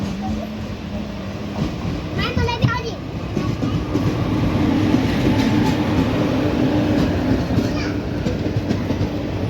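From aboard the Pandharpur Express, a superfast express train overtakes on the adjacent track, giving a loud sustained rumble with clickety-clack wheel beats, brief screeches and a voice talking over the noise.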